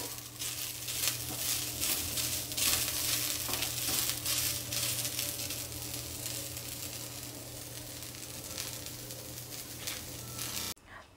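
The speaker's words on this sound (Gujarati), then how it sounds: "આ રીતે આપણે એને હલાવતા રહીશું અને એને બ્રાઉન થાય ત્યાં સુધી આપણે આ રીતે સોતળી લેવાની છે" Onion dry-roasting with no oil or ghee on an iron griddle while being stirred, giving a constant soft sizzle with scraping stir strokes, steady and close, before cutting off near the end.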